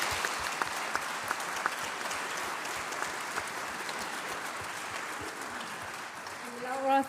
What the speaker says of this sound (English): Can we have an applause for our panelists?